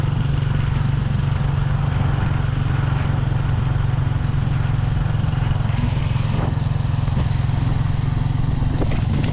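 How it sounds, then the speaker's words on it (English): Motorbike ridden along a rural road, a steady low engine drone running throughout with some rattling and clatter over the top, close and loud the whole time. "I'm so happy because I'm driving your motorbike."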